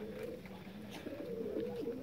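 Pigeons coo continuously nearby, low throaty notes rising and falling in a steady warbling stream with no voices present.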